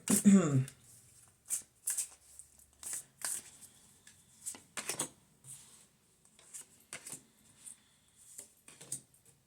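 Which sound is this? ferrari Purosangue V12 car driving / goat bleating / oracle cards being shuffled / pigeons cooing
oracle cards being shuffled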